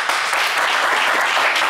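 A French TV game show's studio audience gives a loud, steady wash of applause, dense and unbroken for the whole short stretch.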